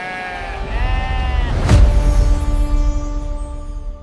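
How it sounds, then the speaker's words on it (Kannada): A sheep lets out a long wavering bleat, then another answers, with a brief burst of noise between them amid a busy outdoor background at the Honnali sheep market. "ಇವತ್ತು ಹೊನ್ನಾಳಿ ಕುರಿ ಮಾರ್ಕೆಟಿಗೆ ಬಂದೀವಿ"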